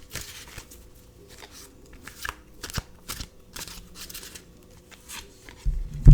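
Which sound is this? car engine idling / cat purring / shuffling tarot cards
shuffling tarot cards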